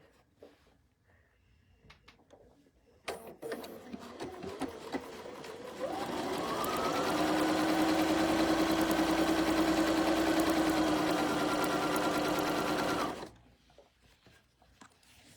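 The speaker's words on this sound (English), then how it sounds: "we are going to stitch all the way down here with 1/4 of an inch" A sewing machine stitches a quarter-inch seam on a table runner, with handling rustle first, then a steady, loud, fast mechanical whir for several seconds that stops abruptly.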